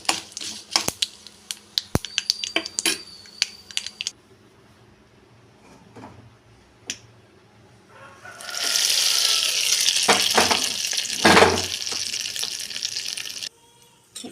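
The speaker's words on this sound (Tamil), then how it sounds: "இப்போ இதை அடுப்பு நிறுத்திட்டு நாம் இதை தாளிச்சது சட்னியில் ஊற்றிக்கலாம்." Hot tempering is poured into roasted gram chutney: after a run of small clicks and taps from utensils, a loud, sustained sizzling hiss rises and fades, with scattered clatter in it.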